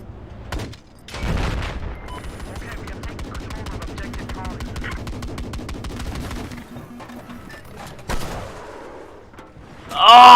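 Sustained rapid-fire weapon shots crackle through a Battlefield 4 firefight on PC, a steady stream of evenly spaced reports at moderate loudness, with a short pause before a sharp burst at the end.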